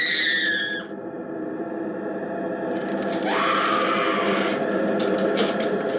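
A woman screams in a haunted house movie: a shrill, warbling cry that breaks off, then a second lower wailing scream rises over echoing, effects-laden background sound.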